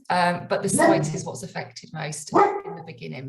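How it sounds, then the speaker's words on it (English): A dog barks in the background, partly masked by a person speaking steadily over it during a talk indoors. "I apologise for the dog."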